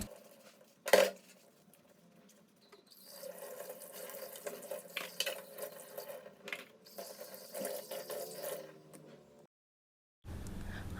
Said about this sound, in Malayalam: ഇനിയിപ്പോൾ വേഗം പാത്രങ്ങളൊക്കെ കഴുകി എടുക്കട്ടെ